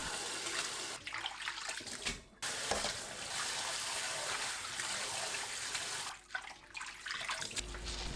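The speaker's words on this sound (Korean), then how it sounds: "바로 찬물에 헹굽니다" Cold tap water runs steadily over rapeseed greens being rinsed right after blanching, a close, continuous gushing wash with two brief dips where the flow is interrupted.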